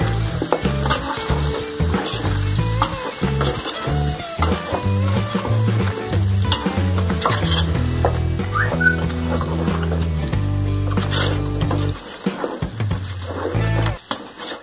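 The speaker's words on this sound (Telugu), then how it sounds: "ఇప్పుడు ఇదంతా కూడా మళ్ళీ మనం మంచిగా మిక్స్ చేసుకుందాం" Chicken coated in ginger garlic paste is stirred in a hot pan for a broiler chicken pulusu curry, with a steady sizzle and occasional scraping running under louder background music.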